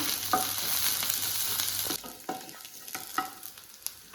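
Curry leaves, green chili and ginger stirred in hot oil for bread upma, a loud sizzle that drops back halfway through, followed by a few distinct spatula scrapes, close up and without speech.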